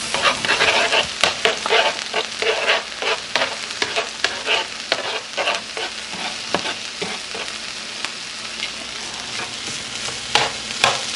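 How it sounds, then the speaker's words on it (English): Rice being tossed in hot oil in a pan gives a continuous close sizzle with frequent scraping stir strokes and light clatter throughout. "just fry it up a bit tossing it in the oil, making sure every kernel gets coated."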